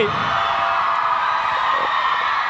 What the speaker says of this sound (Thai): นึกว่าจะไม่มีเสียงกรี๊ดซะแล้วครับ